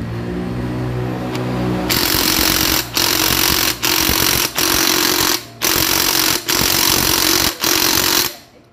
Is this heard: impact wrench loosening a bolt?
yes